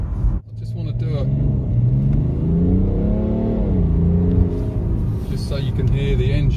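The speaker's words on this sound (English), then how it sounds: "just so you can hear the engine there. It's got a lovely noise to it." A 2017 BMW 335d M Sport xDrive diesel revving as it accelerates from inside the cabin, a steady rumbling engine note that climbs and falls with the gears while someone talks over it.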